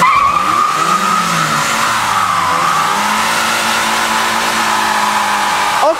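A car held on the e-brake spins and skids its tires during street cruising, a loud continuous screech with the engine droning underneath for about six seconds, ending in a brief rising squeal.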